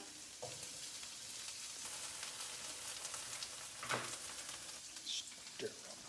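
A steady, soft sizzle of onions frying in a pan for a vegan sloppy joe, holding as a constant low hiss. A few faint clinks and stirring sounds land over it.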